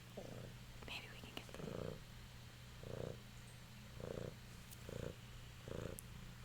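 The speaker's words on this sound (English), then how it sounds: "when he purrs, you hear it" A cat purring up close, a low rumbling pulse that swells and fades in a slow, regular breathing rhythm, quiet under soft whispered speech.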